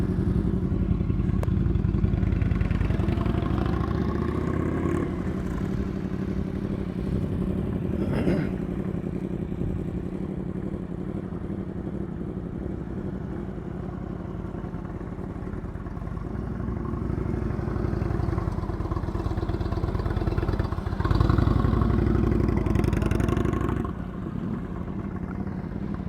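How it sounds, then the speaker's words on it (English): A motorcycle engine chugs along at low speed during riding skills practice, a steady low rumble that swells and fades as the bike circles, with a few faint clanks. "That engine speed is not necessarily a problem, but you hear it going gug gug gug gug"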